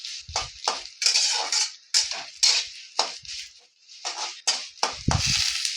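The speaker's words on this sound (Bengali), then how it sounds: "সেমিয়াটা দিয়ে একটু ভেজে নেবো" Vermicelli for mango kheer is stirred and fried over low heat in a pan, a series of sharp scraping, rattling strokes repeating roughly every half second, close and fairly loud with brief pauses.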